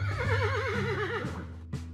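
A horse in the video game Yuppie Psycho lets out a wavering, fairly loud neigh that trembles up and down before cutting off, with a brief snort near the end.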